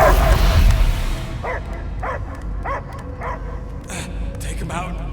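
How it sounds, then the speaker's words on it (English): A dog in the Guardians of the Galaxy video game gives a series of short, evenly spaced barks and yips after a loud opening burst, the barks moderately close and repeating roughly every half second. "I hear only barking"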